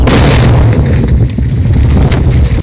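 A loud, booming blast from a naattu vedi firecracker set off on a pipe in a village, with dense low rumble and crackling debris sustained throughout.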